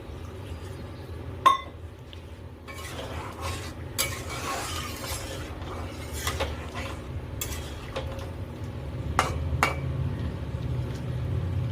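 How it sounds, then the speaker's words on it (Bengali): Water poured into a pan of chilli chicken to make gravy, bringing a continuous hissing sizzle and bubbling, with scattered clinks and scrapes of a utensil against the pan. "এবার এর ভিতরে পরিমাণ মতো জল দিয়ে দেব, ওটা একটু গ্রেভি টাইপের হবে।"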